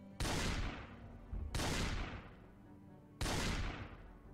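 Three loud, booming shotgun blasts from the game Project Zomboid, evenly spaced about a second and a half apart, each with a long decaying tail and no talk over them.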